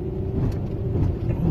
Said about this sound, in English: Watch out, car, you scared me.